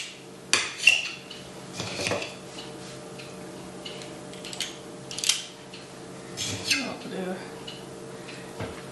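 An ice cream scoop scrapes and clinks against a pan during pizza making, several separate metallic scrapes and taps spaced out, with people talking quietly around them.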